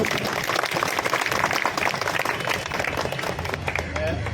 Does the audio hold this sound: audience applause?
yes